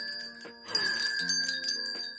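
A rustic bell garland jingles with bright metallic ringing, several overlapping tinkling strikes that sustain and shimmer across a couple of seconds, fairly close and clear.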